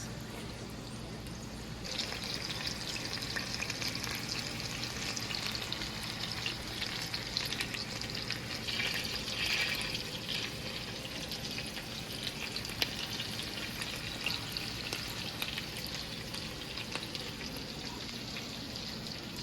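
Marinated lamb chops, five packed into a pan, fry with a steady close sizzle and crackle that runs unbroken and grows slightly busier after the first couple of seconds, with no talk over it.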